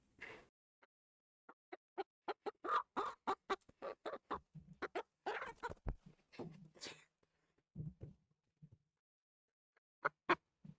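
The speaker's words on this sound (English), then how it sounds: "you can hear her squawking" A young hen squawks and clucks in rapid, uneven bursts with short pauses between them, close and fairly loud.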